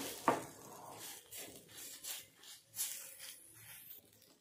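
Green chili thecha being stirred into cherry tomato chutney, a spoon scraping and swishing through the thick mixture in soft, uneven strokes, with one sharper clack near the start.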